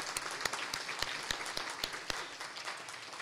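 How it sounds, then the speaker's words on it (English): An audience at an athletic fundraiser gives a modest round of applause, scattered individual claps standing out over a light, steady patter at moderate distance. "Let's give all of our sponsors a round of applause."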